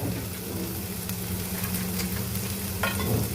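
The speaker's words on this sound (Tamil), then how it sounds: "வெங்காயம், பச்சை மிளகாய், இஞ்சி பூண்டு நல்லா வதங்கிடுச்சு" Onions, green chilli, ginger and garlic sautéing in a pan, a steady close sizzle with soft stirring scrapes and a brief clatter near the end.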